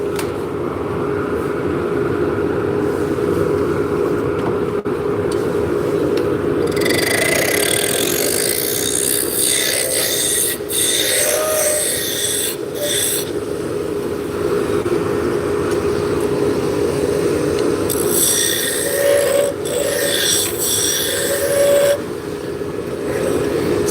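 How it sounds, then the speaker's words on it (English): A workshop dust extraction system runs during woodturning of drop spindles, a loud, steady close roar that fills the whole stretch, with a few brief higher hissing surges and no talk. "Get my extraction going."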